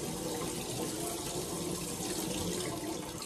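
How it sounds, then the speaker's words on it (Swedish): Water runs steadily from a tap into a campsite sink while dishes are washed, a continuous close splashing rush with no talk. "Nu är det lite diskning här på gång."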